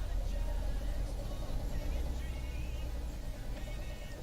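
Rush-hour traffic in Paris at 8 pm heard from inside an old truck, a constant low engine and road rumble with a muffled wash of passing vehicles, steady and close.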